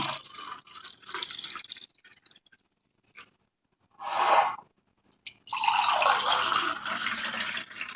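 Grape juice is poured into a tumbler in a kitchen: short splashing bursts and drips, then a longer steady pour, close and fairly quiet.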